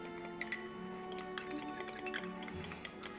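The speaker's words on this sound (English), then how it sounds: "Let's mix this up with a fork." Fork clinking against a bowl while beating egg wash for pumpkin pasties, a rapid run of close, bright metallic taps over a steady background hum.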